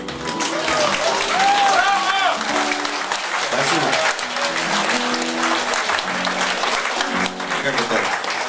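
Audience applause in a hall, loud and sustained throughout, with voices and murmuring mixed into the clapping.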